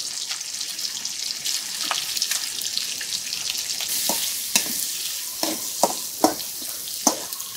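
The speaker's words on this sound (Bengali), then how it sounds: "চিংড়ি মাছগুলো একটু ভালোভাবে ভাজিয়ে নিতে হবে।" Chopped onion and green chilli frying for a prawn curry: a continuous bright sizzle with spoon clicks and scrapes against the pan that grow more frequent toward the end.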